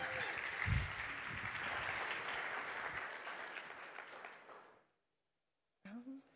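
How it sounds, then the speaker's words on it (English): A conference audience applauds to welcome a speaker to the stage at a web developer event, with dense clapping and a brief voice early on that gradually thins, stops into silence, then gives way to a short spoken phrase. "please give a super warm welcome and applause to Monica"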